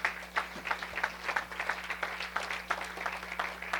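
Church congregation applauding the Lord during a Spanish-language evangelical service, a busy stream of many hands clapping with a steady hum beneath, moderately loud and unbroken.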